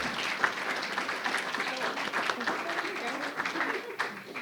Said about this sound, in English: So if y'all could please join me in a round of applause to thank this special group